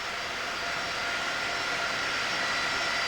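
Papal jet airliner marked Shepherd 1 taxis at an airport at night, its engines giving a steady, moderately distant roar with a high whine and no talk over it.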